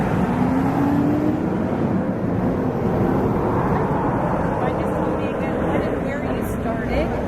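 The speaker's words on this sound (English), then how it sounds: "I'm going to wait till this truck goes by" Truck driving past outdoors near Parliament Hill, a loud continuous broadband engine and road roar that fills the whole stretch, close and steady with no clear fade.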